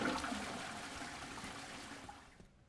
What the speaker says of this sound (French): je peux tirer la chasse de partout